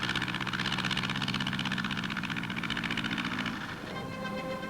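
A wingless aircraft's engine at takeoff gives a steady, pulsing drone that fades slightly toward the end, heard on an old newsreel soundtrack with faint music.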